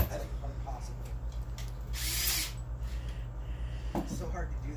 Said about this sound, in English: Put this fucking bit in the drill for me